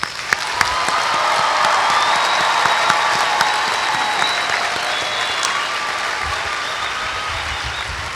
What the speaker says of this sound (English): Let a resounding round of applause show our gratitude for your sacrifice.